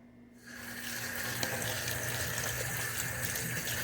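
Hot noodles rinsed under a running sink tap, the water switching on after a brief pause and then pouring steadily and close, with no speech.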